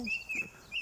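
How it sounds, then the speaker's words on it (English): A bird sings in short, high, thin notes, fairly faint and distant, over a quiet outdoor background with no talking. "I can hear a bird singing away there."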